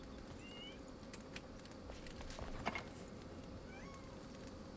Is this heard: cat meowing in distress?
yes